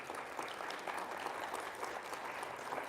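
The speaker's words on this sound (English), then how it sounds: "give her a round of applause" Meeting audience applauding a departing board member at a native plant society chapter general meeting, a continuous, fairly distant wash of clapping heard alone.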